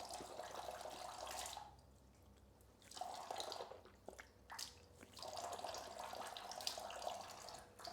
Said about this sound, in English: we take some water and we rinse our mouth out 3 times